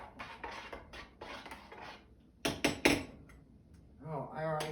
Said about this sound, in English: let me give it a stir